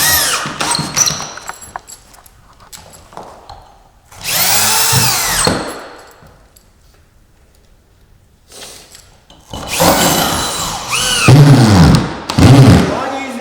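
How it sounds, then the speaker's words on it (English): Power drill driving screws into metal plates during plate installation, heard in three loud bursts of whirring spin-up and slowdown separated by quiet gaps, with scraping handling noises between. "It's a lot easier to do the screwing over the top of your work than trying to be off to a side."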